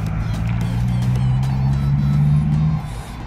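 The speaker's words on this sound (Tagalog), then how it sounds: "Naririnig ninyo ang mga ingay ng sasakyan dyan sa labas." Steady road traffic from cars on city streets just outside an urban park in Riyadh, a continuous low engine rumble with one vehicle droning past, fairly close and loud, easing off near the end.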